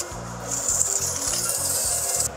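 Rhythmic scratchy rubbing of sandpaper on a wooden plate, several quick back-and-forth strokes, close and steady.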